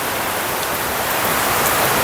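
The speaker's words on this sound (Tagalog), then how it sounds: "Grabe oh, lakas na ulan." Heavy tropical rain pours in a dense, loud, unbroken wash of noise outdoors, constant throughout with no voices.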